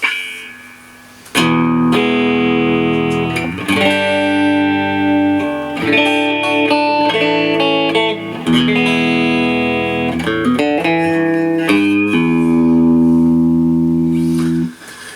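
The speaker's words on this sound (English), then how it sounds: "that's the best in between sound I've heard on a couple of P90s for a long time" Electric guitar with two P90 pickups, switching between bridge and both pickups, playing chords and short riffs with a slightly gritty, warm tone, loud and close, pausing briefly between phrases.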